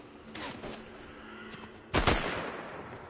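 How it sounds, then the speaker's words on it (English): Gunfire in Fortnite, a couple of scattered shots early followed by a louder close burst near the end, sharp cracks over a quiet background with little talk. "Oh, I'm getting shot."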